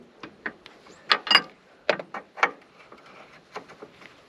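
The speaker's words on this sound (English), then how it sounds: "we're going to turn this nut right here, and they should go down." A wrench turns a nut on harvest farm machinery, giving a series of close, uneven ratcheting clicks and metallic clacks in short bursts, with no talking.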